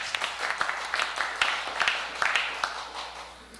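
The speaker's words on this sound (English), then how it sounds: "Let's give them a round of applause" A church congregation applauds during a Sunday service, a steady round of clapping from a modest group with distinct individual claps scattered throughout, fairly close and continuous for several seconds.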